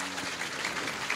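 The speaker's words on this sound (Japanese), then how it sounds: "ちょっと拍手いただいてもよろしいですか" Audience applause at a film's opening-day stage greeting in Hong Kong, a steady wash of clapping filling the whole stretch at even loudness.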